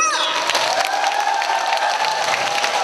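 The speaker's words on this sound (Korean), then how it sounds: "큰 박수 함성과 함께 박수!" A festival crowd at the 2019 Eumseong Pumba Festival applauds and cheers for a janggu drum troupe. The clapping is loud and dense, with shouts and whoops mixed in the whole time.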